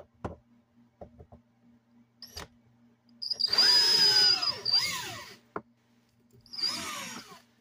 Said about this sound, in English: I don't know if my drill's gonna fit up in there.